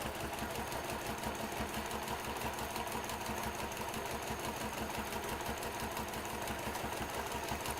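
A sewing machine stitches steadily in free-motion quilting, its needle running fast and even with a rapid mechanical chatter as fabric is moved back and forth. The sound is close and continuous, with no talk.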